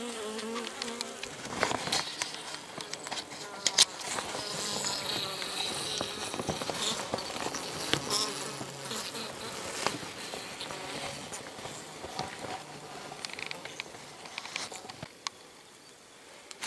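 Honeybees buzz around a wintering hive in a damp, small two-box nucleus colony, a continuous close hum with scattered crackles and taps, no voices.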